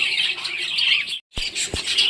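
Pet budgerigars chirping in a cage, a busy flock of bright, rapid tweets and squawks, briefly cut off by a short gap before the chatter resumes close by.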